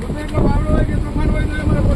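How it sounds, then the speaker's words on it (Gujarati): Strong storm wind roars across a fishing boat at sea, gusting and buffeting the microphone in loud, surging waves of noise with the rush of water beneath; someone talks over it. "તો પવનનો અવાજ બહુ આવતો હે બરાબર, કારણ કે વાવડો જેવો છે કે વાત પૂછોમાં."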